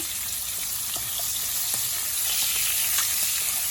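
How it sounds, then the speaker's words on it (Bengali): Shrimp frying in a pan give a steady, close, fairly loud sizzle with small pops and crackles throughout, no one talking. "চিংড়ি মাছ ভাজা হচ্ছে"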